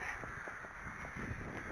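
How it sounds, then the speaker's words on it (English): Crows cawing repeatedly in an uneven series of harsh calls, moderately loud over steady outdoor background noise near Castle Howard during a horse ride. "Ooh, look at that. The birds."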